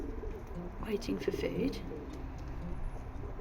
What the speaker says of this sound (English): Loads of doves and some pigeons